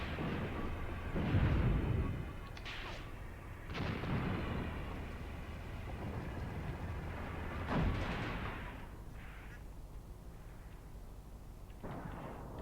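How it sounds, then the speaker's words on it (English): Distant artillery gun fires on tanks in the WWII tactics game Graviteam Tactics, Kharkov 1942, with about four heavy booms spaced several seconds apart over a low rumbling battlefield background. "my tanks are certainly under attack from some unseen gun up on the hill"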